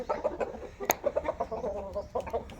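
Rooster clucking close by on a farm, a quick run of short, throaty clucks in uneven rhythm, fairly faint, with one sharp click partway through.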